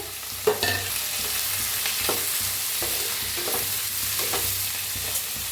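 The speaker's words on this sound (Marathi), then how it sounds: "कांदा बघा हलका भाजला आहे त्याच्यात टाकूया टमाटर" Chopped tomato drops into lightly fried onion in hot oil in a kadhai, setting off a steady close sizzle with scraping stirs and soft clacks of the spoon against the pan.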